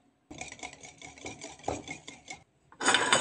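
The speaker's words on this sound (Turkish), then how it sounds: "1 çay bardağı kremamızı içine döküp onu da güzelce karıştırıyoruz." Egg yolks and cream are whisked in a bowl, a quick rhythmic metallic scraping that runs steadily for a couple of seconds, pauses, then resumes louder and faster.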